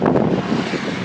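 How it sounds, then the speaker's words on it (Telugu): Strong wind gusts across a river barrage on the Penna river in Nellore, roaring and buffeting loudly and close throughout with no one speaking. "బాగా గాలి ఎలా వస్తుందో."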